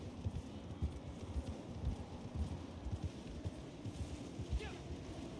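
In the Red Dead Online video game, a horse in terrible shape plods through a snowy blizzard, its hooves giving a steady, muffled clip-clop under wind noise.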